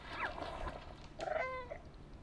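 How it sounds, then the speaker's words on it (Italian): A cat in the video game Stray meows twice in quick succession, fairly faint, over a soft steady background hum with no talking. "lanciamo un miagolio"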